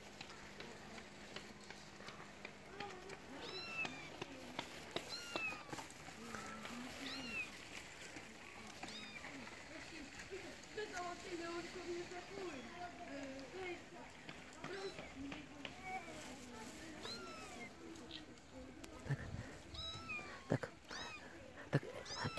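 Several kittens meow repeatedly at close range while being fed on a street in Tbilisi, their calls overlapping amid a busy outdoor background, with a person talking throughout.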